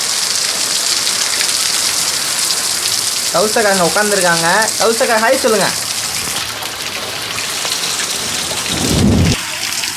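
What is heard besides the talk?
heavy rain with thunder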